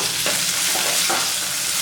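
Steady, close frying sizzle of chopped onions added to golden garlic in a pan, continuous crackle with brief stirring scrapes; no voices.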